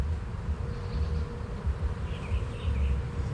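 Dense honey bee buzzing from a freshly split spring colony hums loudly and continuously nearby, with faint higher chirps of individual bees passing close.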